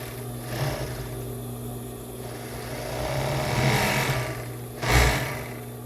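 A sewing machine stitches lace onto a cropped bra, a steady close mechanical whir with a constant hum and two brief louder surges of running near the end, no voices.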